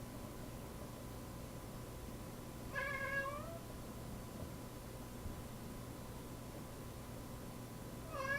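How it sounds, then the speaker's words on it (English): A pet cat meows twice, a short drawn-out call partway through and another at the very end, each clear against a steady low background hum with no talking. "If you can hear my cat meowing"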